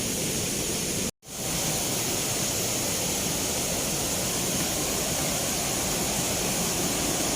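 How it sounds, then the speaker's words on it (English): Steady rushing water fills the clip, a continuous loud hiss from a small waterfall nearby at Blangsinga Waterfall, Bali, with a brief dropout early on. "Oh, there's like a little mini waterfall right there."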